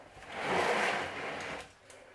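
Water pouring gently over a repotted Dendrobium delicatum orchid in a soft, steady splash that swells and then tapers off, close by with no one talking.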